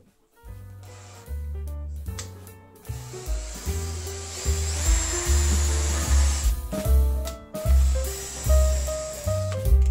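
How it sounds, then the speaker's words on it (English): A cordless drill taps M6 fixturing holes in a machined plate for a DIY CNC conversion, whirring in repeated bursts that start and stop, loud and close, with no talking. "I later tapped the fixturing holes for M6 with a cordless drill."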